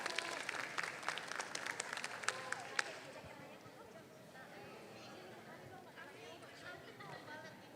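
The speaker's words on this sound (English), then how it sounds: "Please giving our best applause," Applause at the opening of the first ICSEAR 2025 conference at the Faculty of Veterinary Medicine, Universitas Syiah Kuala, Banda Aceh: a few seconds of moderate clapping, then fading into room murmur and talk.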